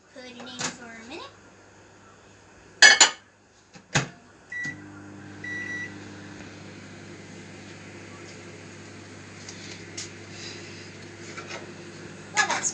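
A microwave oven hums steadily while melting butter, opening with a few beeps and door clunks before the low drone settles in and runs on, close by, with a voice briefly heard.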